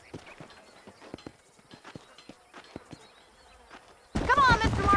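Horse hooves clip-clop at a steady walking pace in the Red Dead Redemption video game, light and fairly close, before a voice begins talking loudly near the end.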